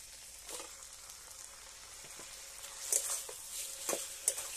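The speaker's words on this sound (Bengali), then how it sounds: "চিংড়ি মাছ দিয়ে আমি ভালো করে কষতে থাকব।" Shrimp frying in a spice masala for a Bengali malaikari, a soft, faint sizzle with light crackles and occasional spatula scrapes; no talking.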